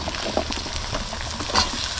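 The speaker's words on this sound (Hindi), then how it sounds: "अब इसमें हम आलू डाल देते हैं।" Steady frying sizzle with soft clatter and a brief louder rustle as small potatoes drop into a hot pan of browned onions, no talking.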